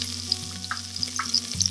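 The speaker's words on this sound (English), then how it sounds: "The oil is already in here heated up. You can hear it sizzling." Close, steady sizzling and crackling of cumin seeds frying in hot oil in an Instant Pot, with scattered sharp pops, no talking.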